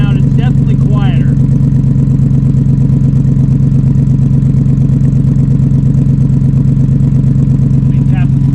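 A Cobra Daytona car engine idles after a cold start, its exhaust giving a loud, steady low rumble with an even pulsing throb that holds for the whole stretch while someone talks over it.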